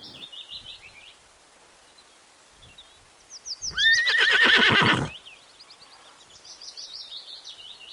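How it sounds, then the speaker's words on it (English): A horse gives one loud, close whinny lasting about a second, with soft birdsong chirping faintly before and after it. "H for horse"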